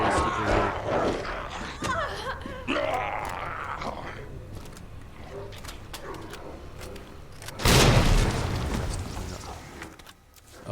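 A grenade goes off in Resident Evil 2 Remake on Xbox One X: one loud, broad burst rises abruptly from busy game noise partway through and fades over a couple of seconds.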